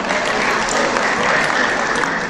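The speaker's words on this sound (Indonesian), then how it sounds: "Tepuk tangan." Dense, steady applause from an audience at a formal gathering honoring the head of the Paguyuban Pasundan association, a continuous wash of many hands clapping with no break throughout.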